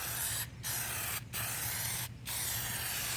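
Plasti Dip is sprayed from an aerosol can onto a car grille in three steady hissing bursts, close and loud, separated by brief pauses.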